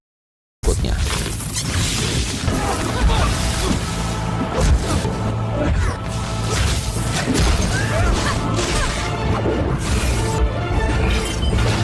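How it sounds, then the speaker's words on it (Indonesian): A glass cabinet shatters during a fight scene in the film Doctor Strange, dense crashing and smashing with whooshes and thuds, loud and continuous amid dramatic film audio. "Dalam pertarungan itu membuat lemari kaca jubah tersebut pecah"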